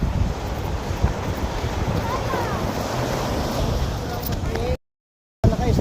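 Strong wind buffets the microphone at a beach while a kite is flown, a loud, continuous rumbling roar mixed with surf, broken briefly by a moment of silence near the end; a voice is faintly present.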